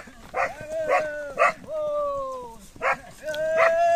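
A dog gives a series of short, whining yips and bow-wows in quick succession, close by, with a longer drawn-out whimper in the middle, while going after cattle during a cattle roundup.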